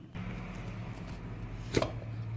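A mixer grinder crushes 10 to 12 garlic cloves, producing a steady low motor drone with a brief knock partway through.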